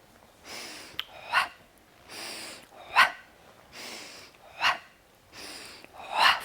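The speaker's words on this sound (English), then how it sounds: "let's just put a pumping breath to this" Rhythmic pumping breaths during a hip warm-up exercise, sharp forceful exhales repeating about every one and a half seconds, close and fairly loud, with softer inhales between them.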